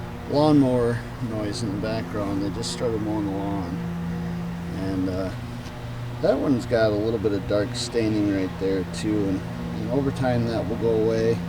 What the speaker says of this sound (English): please excuse the lawnmower noise in the background. They just started mowing the lawn